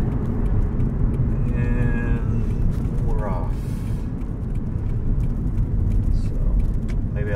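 Car rolling along a city street with steady low engine and road rumble throughout, a few faint mechanical squeaks and rattles riding on top, heard from inside the vehicle.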